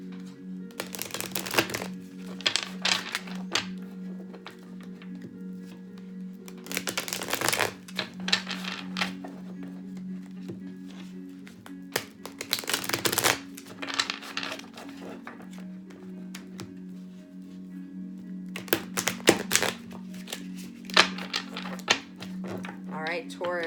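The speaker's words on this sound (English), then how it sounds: "Just going to do a couple of shuffles for Taurus." Tarot cards being shuffled in several separate bursts of crisp riffling and slapping, spread across a steady low hum with quiet pauses between.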